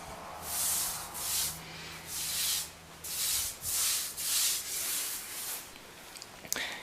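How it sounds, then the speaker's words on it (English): A sponge wipes excess grout from freshly grouted bathroom floor tiles in rhythmic back-and-forth strokes, about ten soft swishing rubs, close and fairly quiet with a small knock at the end. "You can also use the sponge to shape the corners and the grout lines up against the"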